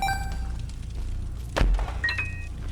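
Troll bomb exploding in the video game The Binding of Isaac: Repentance, a single sharp thudding blast in the middle, set against chiming game effects and a brief rising tone afterward.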